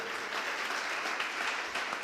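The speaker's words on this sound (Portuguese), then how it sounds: "Você pode aplaudir o Senhor?" A church congregation applauds, producing a continuous, dense burst of clapping from many hands across the whole moment.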